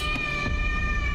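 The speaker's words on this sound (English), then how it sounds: "scared off the cat" A cat meows in the horror video game Layers of Fear, one steady, drawn-out tonal cry held for about a second with faint background noise.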